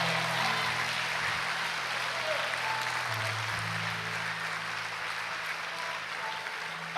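Church congregation applauding during a sermon, a steady, fairly soft wash of clapping throughout with a low sustained hum beneath it.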